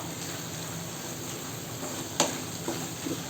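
Mint chutney ingredients are stirred in a pan over a medium flame: a steady, close sizzle of frying with a few sharper scraping clicks from the spoon toward the end.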